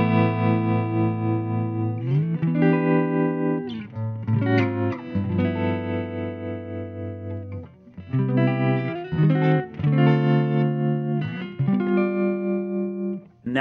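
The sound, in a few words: 1968 Fender Princeton Reverb tremolo, max intensity, lowest speed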